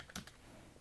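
A computer keyboard gives two quick, close key clicks in succession, then quiet room noise.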